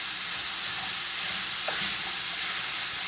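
Meat browning in a pan with olives, capers and plenty of pepper gives a steady, even sizzle and hiss throughout, close and moderately loud, with no talking.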